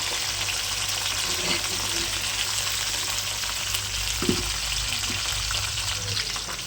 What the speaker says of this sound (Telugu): మొత్తం మిక్స్ అయిన తర్వాత కలుపుకుంటూ ఉండాలి. మంచిగా నూనెలో వేగాలి.